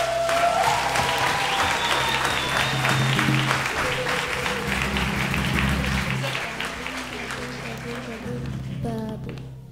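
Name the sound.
audience applause in church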